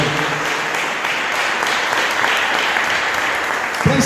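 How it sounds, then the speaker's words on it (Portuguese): A church congregation applauding during a worship service, loud and sustained clapping that fills the room evenly from start to finish. "vamos aplaudir o Senhor."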